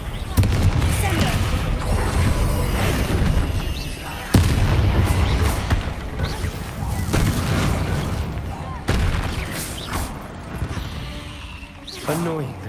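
Confringo and Incendio spell blasts firing in Hogwarts Legacy, a run of loud booming bursts with sharp attacks every few seconds, heard under near-continuous speech.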